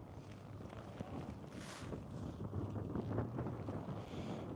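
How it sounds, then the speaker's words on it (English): Steady wind on the high plains buffets the microphone with a rough, constant rumble and occasional louder gusts. "It's getting a bit windy again."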